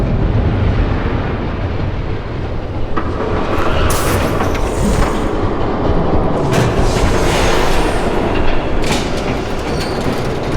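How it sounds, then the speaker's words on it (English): A train rolls in during the Batman: The Telltale Series video game, a loud, continuous rumble and rail clatter that holds steady throughout, with brief metallic screeches rising over it. "There's a train coming."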